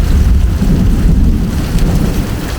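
Steady heavy rain and deep rolling thunder from a wet-season storm in Thailand, a loud continuous rumble and hiss with no talking.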